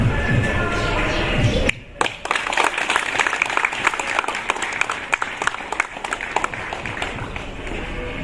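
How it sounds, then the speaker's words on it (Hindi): An audience at an Independence Day ceremony in India claps in a sustained, dense patter after a sudden start, close and fairly loud, with faint voices mixed in. "तालियां बजाएंगे।"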